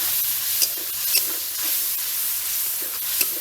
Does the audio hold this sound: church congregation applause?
no